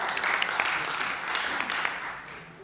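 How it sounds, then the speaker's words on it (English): Workshop audience gives a short burst of applause, a dense, fairly soft clapping texture that gradually fades, with speech faintly mixed in. "Round of applause to Joana Duah and Abbel."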